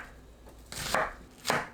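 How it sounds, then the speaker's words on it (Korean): A knife cutting onion into bite-size pieces on a board: two distinct chopping strokes, close and crisp, with no talk. "양파를 한입 크기로 썰어주세요."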